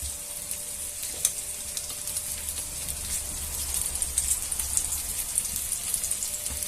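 Chorizo sausages sear in a hot pan with a steady, close sizzle and crackle that holds for the whole stretch, with faint pops scattered through it.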